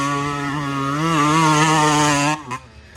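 A Honda CR250 two-stroke dirt bike engine runs loud and close with a steady buzzing drone that rises and falls slightly in pitch, then cuts off abruptly near the end, leaving a brief sputter.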